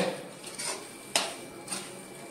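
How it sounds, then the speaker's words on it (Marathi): A spoon stirs chili powder into vegetables in a pan. Soft scraping comes in short strokes, with one sharp metallic clink in the middle, all fairly quiet and without speech. "तिखट घातल्यावरती पुन्हा एकदा हे असं परतून घ्यायचंय"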